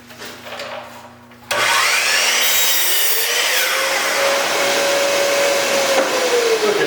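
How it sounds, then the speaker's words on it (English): A power saw spins up and cuts a 45-degree angle through a pine board, starting with a sudden loud whine and then grinding steadily through the wood at close range, its pitch slowly sagging under load. "let's start off by putting in a 45-degree cut on it. So slide this over to make our initial cut."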